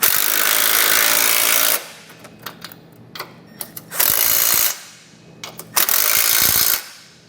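Bursts of a power tool running a 17mm socket to snug the nuts on a Roadmaster Direct-Connect base plate, three loud sustained runs separated by quieter clicks and clanks of handling.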